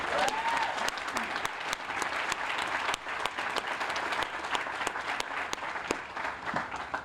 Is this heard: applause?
yes